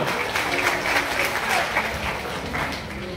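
Audience in a Visakhapatnam theatre applauding steadily at a political meeting, a dense, even wash of many hands clapping at close range with no voices over it.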